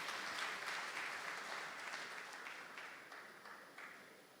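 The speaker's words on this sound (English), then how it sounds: "A round of applause for our please." Applause from a conference audience at a technical talent impact summit fills the hall, a steady rush of many hands clapping that gradually fades away, with no talking over it.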